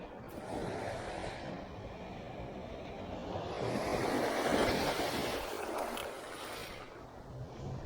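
Ocean surf washes up on a Fort Lauderdale beach in a rising and falling rush, swelling to a peak midway, mixed with wind buffeting the microphone.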